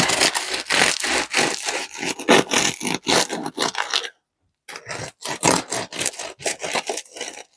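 A knife saws through a crusty sourdough loaf in quick rasping back-and-forth strokes, pausing briefly before the crunchy cutting resumes.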